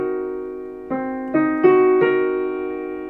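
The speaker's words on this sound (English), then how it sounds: "A C half diminished 7 sounds like this." A C half-diminished seventh chord built up on a keyboard-like instrument, its notes entering one after another in four steps, then ringing together as a sustained, clear chord with no talking.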